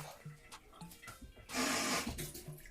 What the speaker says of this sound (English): we're gonna put some water, about a cup